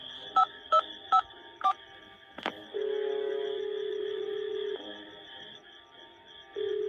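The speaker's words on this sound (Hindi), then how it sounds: "अपने मोबाइल से किसी को फोन करने लग जाता है।" A mobile phone dials: four short tones beeping in quick succession, then a long steady ringback tone with a pause, faint background hum throughout.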